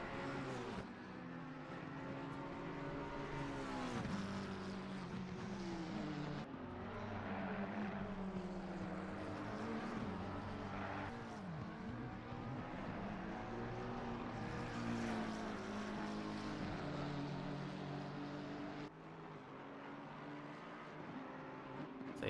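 Race cars from an online sim racing league event at the Zolder circuit roar continuously in a dense, loud layer of engine tones that rise and fall through gear changes and overlapping cars, with no talking.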